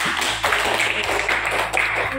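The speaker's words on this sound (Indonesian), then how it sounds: "Tepuk tangan bagi kita semua." Clapping from participants at a teacher training session in a school, a steady burst of many hands over about two seconds with a low steady hum and voices faintly underneath.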